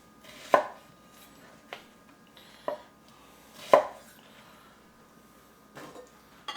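Knife chopping onions on a cutting board, five or six separate, spaced chops landing close and fairly crisp, each a single sharp knock, in a quiet kitchen with no talking.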